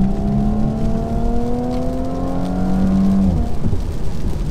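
An Audi S5 coupe, a 2017 model, revs hard under acceleration, its engine note climbing steadily in pitch and then easing off. The sound is loud and close throughout, with no talking.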